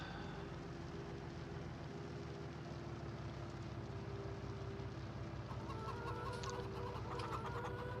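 Chickens on a chicken farm in Farm Sim cluck softly over a steady low hum, with the bird sounds becoming a little more noticeable toward the end.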